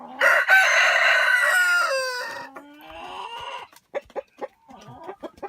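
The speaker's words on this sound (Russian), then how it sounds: "Курицы породы пушкинская." Pushkin breed chickens crowing and clucking close by in a farmyard, a long rooster crow at the start followed by a run of short, sharp clucks, with no talk over them.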